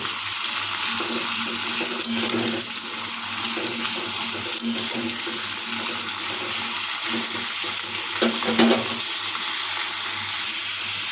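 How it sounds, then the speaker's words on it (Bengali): Bottle gourd stems frying in hot oil while being stirred with a spatula, a steady close sizzle with scraping and stirring knocks throughout, no talking. "যেহেতু এই তেলের মধ্যে আমরা লাউ ডাঁটাগুলো দিয়েছি দিয়ে দিতে খুঁজতে কিছুক্ষণ এটাকে নাড়িয়ে নেব"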